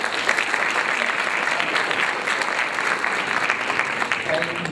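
Audience applause at a live comedy show fills the room with steady, dense clapping and cheering that holds evenly throughout, loud and close, with no talk standing out.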